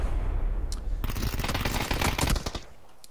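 Gunshots in the battle royale game PUBG, a rapid burst of automatic fire in a tight rattling stream lasting over a second, preceded by a single earlier crack, loud and close with no talking.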